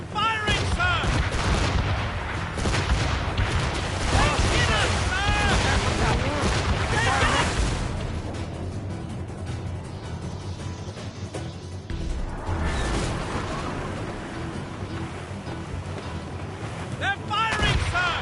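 Cannon fire from sailing warships in the video game Assassin's Creed Rogue, a dense run of heavy booms and blasts over constant battle noise, with several voices shouting over it throughout.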